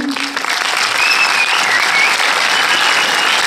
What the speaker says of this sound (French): Alors je vais vous demander d'applaudir, mais vraiment très très très fort